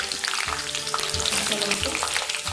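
Garlic and peanuts fry in hot oil in a pan, giving a dense, close, continuous sizzle with spitting crackles and a few low scraping thumps, and no voices.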